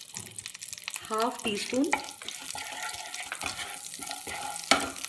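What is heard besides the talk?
cumin powder frying in hot butter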